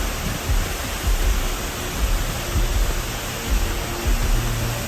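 Kiki Waterfall in Panama, the country's largest falls, pours as a steady, dense roar of falling water, with a few low thumps breaking through the constant hiss.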